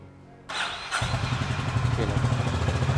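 A Honda H'ness CB350 motorcycle engine cranks and fires up, then settles into a loud, steady, throbbing idle close by.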